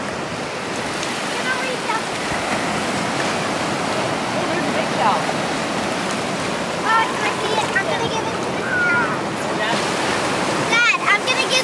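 Ocean waves break on a beach in a continuous loud wash of surf, with faint children's voices and chirpy calls popping up near the end.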